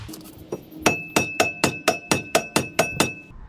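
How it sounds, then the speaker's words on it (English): About ten evenly spaced, solid blows of a rubber mallet against a stuck brake rotor on a 2019 Toyota Sienna, each with a brief ringing tone, close and fairly loud. "I'm going to use my rubber hammer, try to pound this rotor"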